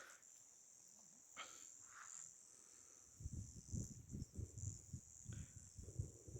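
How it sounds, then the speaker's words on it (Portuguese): Crickets chirp in a steady high trill on a rural countryside property at night, with soft low rustling and thumps close by over the second half. "Só escutando mais os grilos aqui,"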